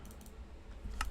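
Quiet, brief typing on a computer keyboard, a few soft key clicks ending in a sharper tap, with no voices.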